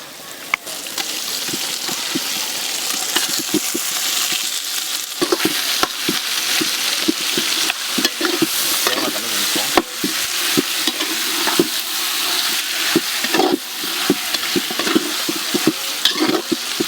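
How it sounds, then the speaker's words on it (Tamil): Chicken pieces being stirred and fried in a pot for a large batch of chicken biryani, giving a steady loud sizzle with frequent scraping stir clicks throughout, no talking. "கேஜி அளவாக சிக்கனை போட்டுக்குவோம்."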